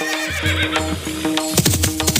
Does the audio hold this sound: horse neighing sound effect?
yes